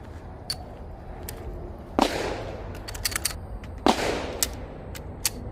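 Pistol shots from an FN 509 Tactical fired at about five yards, five rounds: sharp, separate cracks at uneven intervals, two of them louder and nearer, over faint background noise.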